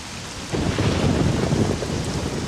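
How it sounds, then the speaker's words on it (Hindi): Heavy rain pours down in a thunderstorm as a story sound effect, a dense loud hiss of drops with a low rumble of thunder swelling in after a brief quieter start. "फिर ऐसे ही 5 दिन तक बारिश रुकने का नाम नहीं लेती।"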